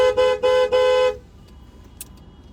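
A car horn at Ottawa airport honks three times in quick succession, loud and close, each blast about a third of a second, then stops, leaving faint traffic rumble behind.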